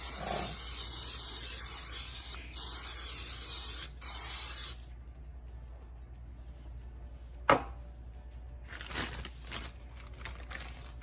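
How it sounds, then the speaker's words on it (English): Cooking spray hisses onto a bundt pan in long, close bursts with brief pauses, then a clunk and a few shorter sprays near the end. "So spray your pan real good,"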